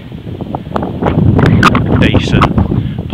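Wind buffets the microphone on a high hilltop at a wild camp by Whiteleaf Cross Hill, a loud continuous low rumble with gusts rising midway, under steady talk.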